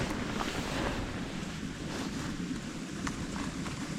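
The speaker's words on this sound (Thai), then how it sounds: "ฟังเสียงน้ำตกไปเลยนะคะจ้า" Steady broadband rush of falling water, continuous and fairly loud, with no voices.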